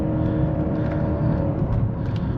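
A 2021 BMW 540i xDrive with 40k miles and its B58 engine accelerates hard, a steady, strong engine drone with a gently rising whir heard from inside the car.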